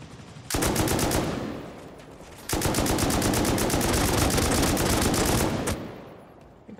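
Attack helicopter in the video game Rust unleashing loud, close bursts of rapid automatic gunfire and rockets, two sustained volleys with a brief lull between them, no talk over it.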